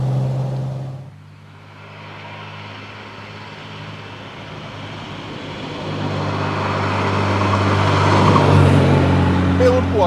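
A Lancia Flaminia GTL on the road, its engine a steady low hum with harmonics that dips briefly, then builds louder as the car accelerates, with no talking.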